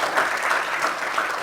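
Audience applause welcoming a speaker at a public talk, a steady, dense clapping from a room full of people, even and sustained without pauses.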